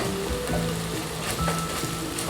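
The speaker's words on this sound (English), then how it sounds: "I'm going to add 1 tablespoon of ginger garlic paste and fry" Ginger garlic paste frying with onions in a pan for butter chicken, a steady close sizzle with faint stirring scrapes throughout, no voices.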